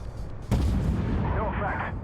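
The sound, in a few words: tank gun blind shots in video game Armored Warfare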